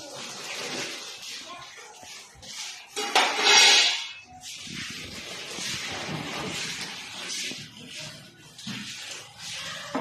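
A household utensil and vessel set is handled and unpacked, with steel pots and dishes clattering close by. A louder clanking burst comes early on, with faint talk in the background.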